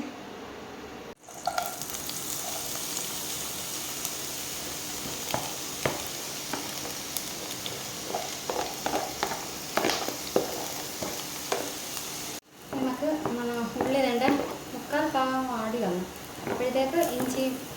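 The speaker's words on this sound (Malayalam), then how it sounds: "നമുക്ക് റോസ്റ്റിലേക്ക് കയറാം എണ്ണയൊക്കെ എല്ലാം ഒഴിച്ച്" Oil sizzling and frying in a pan as a snail roast begins, with stirring clatter throughout and a person talking over it near the end.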